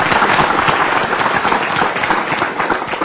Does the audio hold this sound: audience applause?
yes